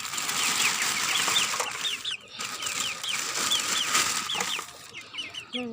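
Several chickens cluck and chirp steadily and close by on a rooftop garden, in a continuous busy chorus over faint background noise.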